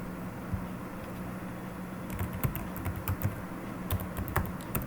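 Keys tapped on a computer keyboard while writing a short JavaScript program to test a Node.js install, irregular clicks in small bursts over a quiet room hiss, closer and busier toward the end.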